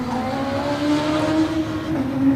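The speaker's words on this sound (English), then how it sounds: "He puts the power down under the Suzuki banner and disappears round that S-bend" Suzuki racing motorcycle at the start of the 2000 Formula One TT race, a loud, sustained engine roar rising as it accelerates away, with a continuous high whine and no gaps.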